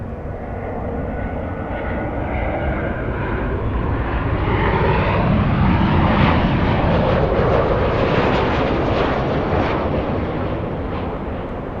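Atlas Air jet taking off from LAX bound for Seoul, a loud sustained roar that swells toward the middle and slowly recedes as the aircraft climbs away.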